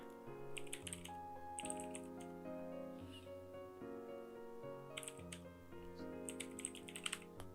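A quiz question is typed on a computer keyboard in soft bursts of quick keystrokes, separated by pauses, under a steady musical tone.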